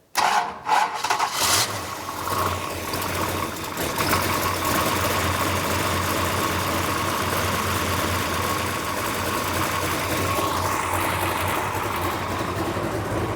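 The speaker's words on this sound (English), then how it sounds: "Try it again, see if it'll crank right there." A racecar engine cranks briefly with a few sputters, then catches and settles into a loud, steady, rumbling idle that continues close by.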